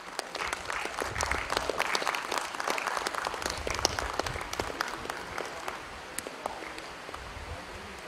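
Applause from an audience at a career counselling session rolls on for several seconds, a fairly soft, scattered patter of many hands with distinct individual claps, thinning out gradually near the end.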